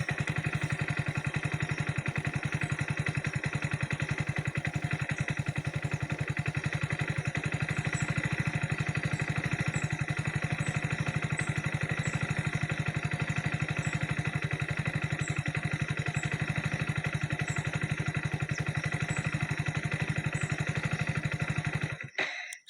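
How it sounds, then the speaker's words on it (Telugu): A Hero Splendor+ i3s BS7 2026 motorcycle engine idling close by in a steady, even low putter that runs unbroken for over twenty seconds before cutting off abruptly at the end. "ఇంజిన్ స్టార్ట్ అయింది కదా"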